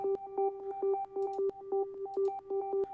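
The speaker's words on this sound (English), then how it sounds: "It's a sine wave" A clean, pure sine wave synth tone plays a quick repeating pattern of short notes in a steady rhythm, with faint delay and reverb echoes trailing each note.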